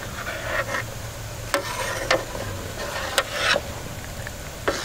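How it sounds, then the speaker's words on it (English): A utensil scrapes scum off the top of simmering bone broth, giving soft rasping strokes and a few sharp clinks against the pot over a low bubbling background. "I'm probably going to scrape some of that scum off the top."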